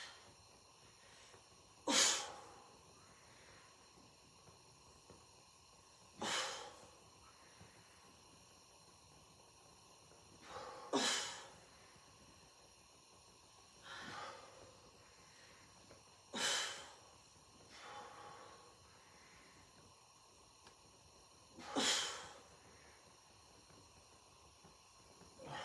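Slow, deliberate exhales blown out at a steady pace, about six forceful breathy gusts spaced several seconds apart, close and fairly quiet against a faint background hum.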